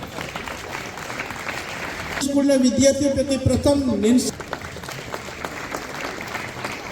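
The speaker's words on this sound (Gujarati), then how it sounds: "તાળીઓ પાડો યાર" A crowd at a student award ceremony in Diu claps under someone speaking into a microphone, while a brief burst of music plays in the middle.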